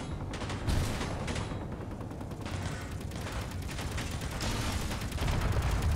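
Gunfire in a Space Engineers battle between players' ships, a dense continuous mechanical clatter of rapid shots with a steady loud roar throughout, no clear pauses.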